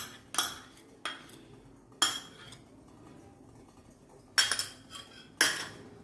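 Melted chocolate and butter stirred in a pan for a no-flour fudge brownie, with a utensil clinking against the pan in a few separate sharp bursts amid quiet scraping.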